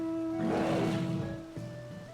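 A dinosaur creature in Final Fantasy XIV gives a short, deep, breathy roar that swells and fades within a second or two over sustained game music.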